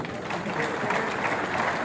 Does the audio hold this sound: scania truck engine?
no